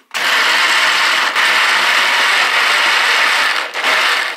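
A blender pulses in short bursts, coarsely chopping vegetables for a ratatouille. A steady, loud whirring grind runs throughout, with two brief dips where the pulses break.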